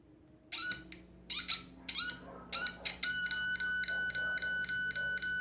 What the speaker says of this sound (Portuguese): o ritmo do bip sonoro ele é um pouco mais lento